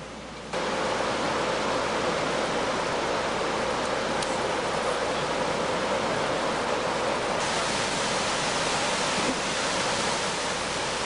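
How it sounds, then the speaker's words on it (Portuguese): Medium-sized waterfall at the Monte Alegre bathing area near Arapeí, a steady, loud broadband rush of falling water that holds constant throughout with no voices. "um local com uma cachoeira de porte médio, onde os visitantes mais experientes podem até escorregar pela pedra"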